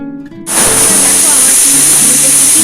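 A pressure cooker boiling urad dal suddenly lets out a loud, steady hiss of escaping steam that continues unbroken and close after a brief quieter moment.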